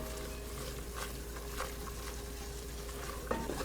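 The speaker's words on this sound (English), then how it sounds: "I'm gonna stir that up." Flour being stirred into butter and softened onions in a soup pot for creamy chicken and wild rice soup, a steady low sizzle with soft scraping strokes of the spoon throughout, close and alone.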